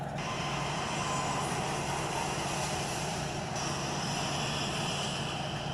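An airliner on approach to Kai Tak airport in Hong Kong gives a steady, broad engine roar that holds throughout, dense and constant with no pauses.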